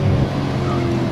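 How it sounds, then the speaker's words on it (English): Exhaust burble from a 2015 Audi RS5 B8.5 with a 4.2L V8, a dense low rumble that crackles briefly as the car shifts. It is loud and close, with a steady engine drone underneath. "every time you upshift or downshift, those burbles"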